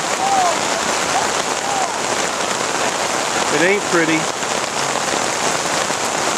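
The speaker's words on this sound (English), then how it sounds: "can hear the sound of this rain." Heavy rain pours onto a flooded youth soccer field, a dense steady hiss of drops hitting water and ground throughout, while a nearby voice speaks briefly and faint whistle-like calls drift in from the distance.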